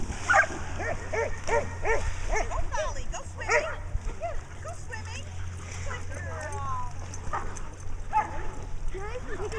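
Dogs in a farm dog pasture at Sugarbush Farm yip and bark intermittently at moderate distance, mixed with people chatting nearby and a steady low rumble underneath.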